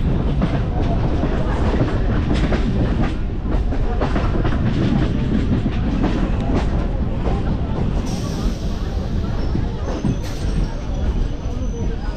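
A Sealdah–Katwa local passenger train runs into Bandel, loud rumbling wheels with rhythmic clickety-clack over rail joints, heard from inside a carriage under faint background chatter.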